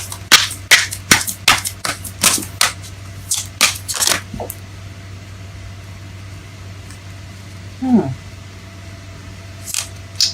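Tarot cards being shuffled by hand, a rapid run of crisp riffling flicks over the first four seconds, close and fairly loud, followed by a quieter stretch with a faint low hum and a couple of soft later sounds.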